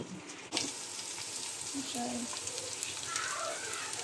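Chicken going into hot masala on a stovetop gives a steady hissing sizzle that swells after a sharp clatter near the start, with faint background tones.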